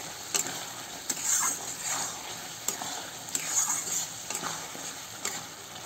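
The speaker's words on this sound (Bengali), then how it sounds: "আলু আর এই সয়াবিনটা ঢাইলে আর একটু কষাবো।" Potato and soya chunks stirred and fried in a pan of cooked spice masala, a close sizzle with rhythmic scraping and knocking from the spoon every second or so.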